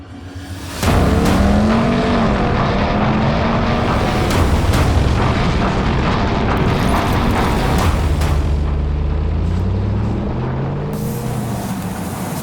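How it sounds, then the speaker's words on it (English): A Dodge Ram TRX truck attempting a jump on a test ground: a loud, close engine roar surges in abruptly, holding with rising and falling pitch and sharp bursts, then easing slightly toward the end. "we tried to make a jump here on this car"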